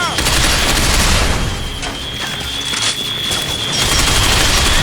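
Dense, continuous gunfire from the video game Binary Domain: rapid overlapping shots and booms fill the whole stretch, loud and close, with a faint voice beneath.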